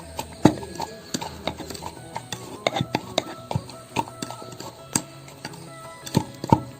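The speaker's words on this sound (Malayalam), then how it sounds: "അപ്പൊ നമുക്കിതിനെ ഒന്ന് ഇടിച്ചെടുക്കണം." Mint leaves and lime being pounded for a virgin mojito, a run of sharp, uneven knocks and thuds, close and fairly loud, with no talking.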